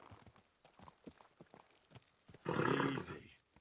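A horse in a video game gives a loud, rough neigh after a run of quick, fairly close hoof clip-clops that sound over a steady rhythm.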